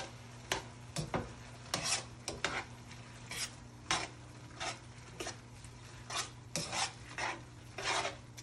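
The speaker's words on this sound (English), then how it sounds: "And then you can stir your noodles in." Noodles stirred in a pan with a utensil, a close, quiet series of irregular scraping strokes over a low steady hum, with no talking.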